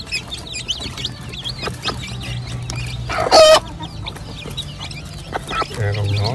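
A mother hen clucks in a small coop on a poultry farm in Australia, with soft repeated clucks under constant high peeping from chicks and one loud squawking burst partway through. Faint voices appear now and then.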